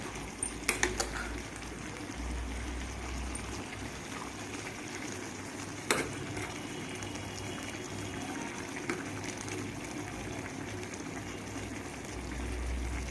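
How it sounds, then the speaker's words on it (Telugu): A ridge gourd and dried prawn curry bubbles quietly in a pot, a soft continuous simmer with a few sharp clicks and knocks early on and midway. "కూర అయితే ఉడుకుతుంది కదండి"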